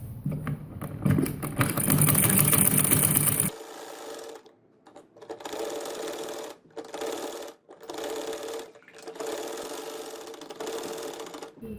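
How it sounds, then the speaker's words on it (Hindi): A sewing machine stitches a round boat neck with loops on a shirt: one long, loud run, then a series of short, fast-rattling bursts separated by brief pauses. "अब हम गले की सिलाई लगाएंगे।"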